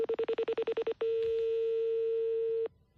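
Telephone keypad tones beep in a quick run of about ten even presses, followed by one long steady tone that cuts off abruptly, clear and alone in a quiet room.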